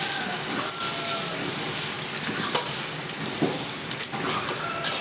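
Vegetable biryani being stirred in a large pot over a gas stove, a steady scraping and sizzling with occasional sharper scrapes and clinks, close and continuous with no talking.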